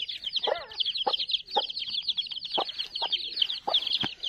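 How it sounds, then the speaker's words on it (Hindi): Mother hen with a brood of about nine or ten chicks, the hen giving short repeated clucks nearby while the chicks keep up a continuous high peeping. "ये हमारी मुर्गी ने बच्चे दिए हुए हैं"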